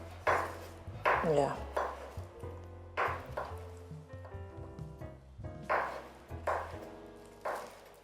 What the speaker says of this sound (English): we're chopping up our carrots, our bell peppers, and our onions